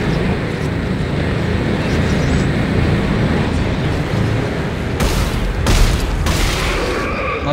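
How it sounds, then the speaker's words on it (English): Continuous gunfire and heavy booms in the sci-fi shooter Dead Space 3, a dense, loud, unbroken barrage with sharper bursts near the end and faint voices under it. "Nice covering fire."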